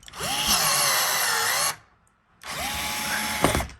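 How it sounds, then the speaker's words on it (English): A powered rivet tool pulling 1/4 inch steel rivets while interior wall and ceiling panels go into a 2023 Sprinter van: two loud motor bursts of close, whining drive with a rising pitch sweep, and a sharp snap near the end of the second. "This thing will pull up to a 1/4 inch steel rivet"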